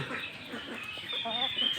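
Native country chickens cluck and murmur nearby, with short soft calls and a higher drawn-out note near the end, over a faint background.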